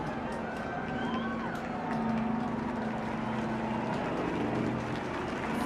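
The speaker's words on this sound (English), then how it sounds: "this is the Dakota, a very famous World War II plane" A Dakota, a World War II transport aircraft with the Battle of Britain Memorial Flight, flies over during the RAF 100 flypast, its piston engines giving a steady, droning hum that holds throughout with faint background noise.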